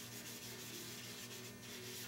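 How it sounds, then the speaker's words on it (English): Sandpaper wet sanding the finish of an Astro Jet, a continuous close rubbing hiss with a soft, steady back-and-forth texture and no voices. "when you wet sand, you can see where you've been, and you can feel it, too"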